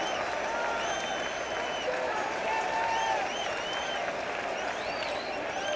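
Baseball stadium crowd at an Astros vs Mets game in 1991 roars and applauds continuously with two strikes on the batter, a dense, sustained wash of cheering and whistles under intermittent voices.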